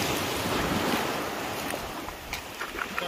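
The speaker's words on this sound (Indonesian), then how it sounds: "Ini di pinggir-pinggir pantainya ya, sahabat semua" Waves wash steadily onto the shore of the uninhabited island of Pulau Babi Kecil in Simeulue, a continuous close surf roar mixed with wind that fades slightly toward the end.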